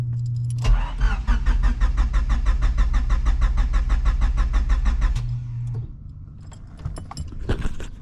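A 1999 turbocharged Honda Civic that has sat for years cranks over on a jump starter, the starter whirring in a steady rapid rhythm for several seconds without catching, then a pause with faint clicks and a brief second burst.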